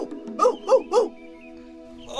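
A dog gives three quick, close barks in an even rhythm, followed by a quiet pause with a faint tone and a soft noise at the end.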